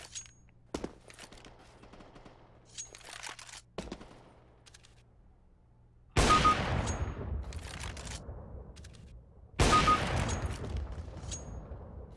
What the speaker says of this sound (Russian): Что-то он как-то странно стреляет.